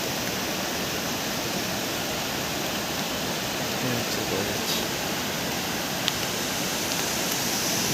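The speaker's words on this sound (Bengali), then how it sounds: "জলটা সোজা চলে যাচ্ছে পুরো পাহাড় বেয়ে" Steady, dense rush of water pouring down a mountainside waterfall, a continuous loud roar filling the whole clip with no pauses.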